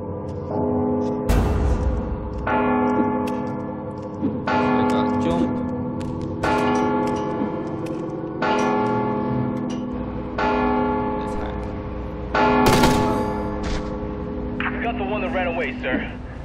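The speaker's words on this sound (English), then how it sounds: "Don't you hear the bell?" A deep bell tolling repeatedly in the stealth game Mark of the Ninja Remastered, loud, ringing strikes roughly every one to two seconds with long humming decays, mixed with game music and ambience.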